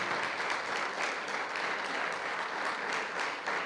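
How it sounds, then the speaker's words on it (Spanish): Church congregation clapping during a sermon, a steady, even roar of applause sustained throughout at moderate distance. "Dale un fuerte aplauso y démosle todo al Señor ese aplauso"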